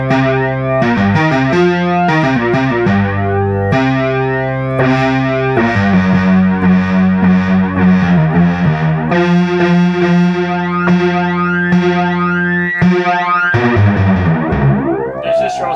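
A Multimoog synthesizer fitted with a negative slope modification plays a continuous run of buzzy, distorted notes and sweeping glides, loud and close, ending in a rising swoop with no talking.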